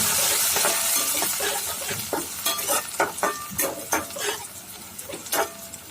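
Onion masala with fresh coriander is stirred in a frying pan for a chicken masala. A steady sizzle runs under repeated close scrapes and clinks of the spoon against the pan.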